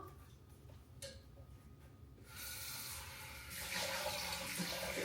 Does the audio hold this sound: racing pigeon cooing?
no